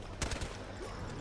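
Sa58 OSW rifle fired in Battlefield Hardline, a quick burst of several sharp shots in rapid succession, close and punchy.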